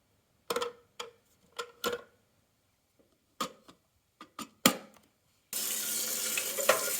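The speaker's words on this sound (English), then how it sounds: "Fill up the water tank up to the line." Water pours steadily from a tap into the water tank of a Nespresso Essenza Mini coffee machine, a continuous hissing rush that follows several sharp plastic clicks and knocks as the tank is handled.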